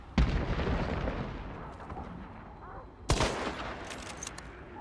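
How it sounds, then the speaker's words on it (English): Gunfire in the video game Hunt: Showdown: a loud close shot opens, followed by a rumbling tail and scattered distant reports, then a second sharp blast partway through with echoing decay. "Is that you shooting?"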